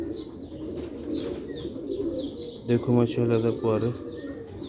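Sialkoti pigeon chicks coo in soft, low repeated calls close by while someone talks over them.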